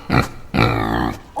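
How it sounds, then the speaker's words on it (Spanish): A pig oinking in two close, loud grunting bursts, the first short and the second longer and drawn out, with a brief squeal at the very end. "Un chancho, muy bien."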